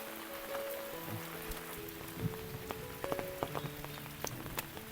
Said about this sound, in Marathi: जोरदार पावसानं हजेरी लावलेली आहे